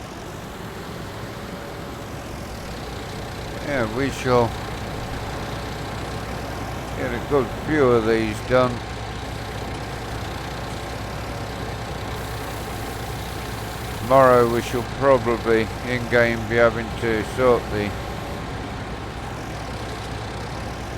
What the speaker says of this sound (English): And it slows down on the engine braking.